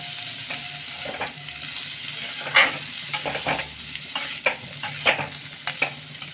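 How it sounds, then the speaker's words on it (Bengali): Potatoes with chopped coriander leaves being stirred in a pan over heat for cumin potatoes, with soft scraping strokes at an irregular rhythm over a steady low sizzle, close by and with no talking. "ভালো করে আমি আলুর সাথে মিশিয়ে নেব ধনে পাতাটা।"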